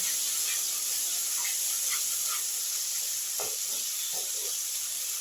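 A ginger, garlic and onion paste for egg curry fries in a pan, giving a steady, quiet sizzle and hiss with a few soft stirring scrapes near the end.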